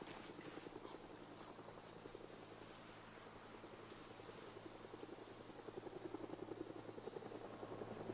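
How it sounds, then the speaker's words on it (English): A helicopter in the video game Project Zomboid thrums overhead with a faint, steady rotor chop that grows slightly louder toward the end, heard alone against a quiet forest backdrop. "Helicopters here."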